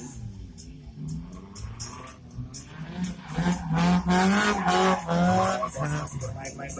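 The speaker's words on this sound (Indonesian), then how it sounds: "Bermain-main bersama motor yang sangat luar biasa digunakan pada malam hari ini." Motorbikes ridden at night, engines revving and whining in rising and falling pitch with tyre squeal, growing louder toward the middle and staying close, with a voice briefly audible.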